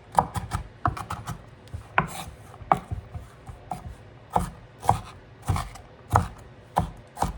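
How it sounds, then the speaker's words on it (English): A knife roughly dicing food on a cutting board, sharp close chops in a fairly steady rhythm with brief pauses, no voices. "I'm just going to take this and just roughly chop this. Once these into dices."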